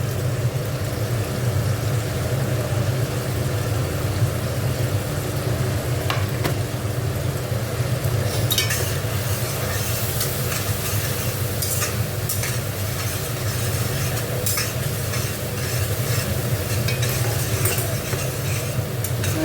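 Artangra fish sizzle in a pan with turmeric and chili powder while being stirred. The frying is loud and continuous, with occasional scraping and clatter from the stirring, and no voices.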